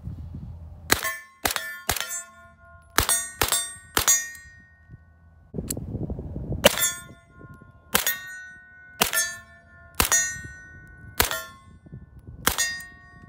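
Shots from a 9mm AR upper with a 16-inch barrel firing AAC 115 grain ball ammo, about a dozen sharp cracks with ringing metallic tails, irregularly spaced, heard alone.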